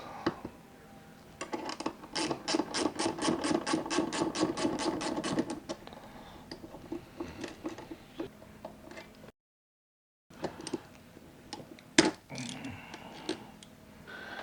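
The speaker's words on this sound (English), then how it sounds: "We'll remove these coupling nuts." Rapid ratcheting clicks from a ratchet loosening coupling nuts on a window jamb, a dense burst of steady clicks for several seconds, then scattered lighter clicks and taps close by.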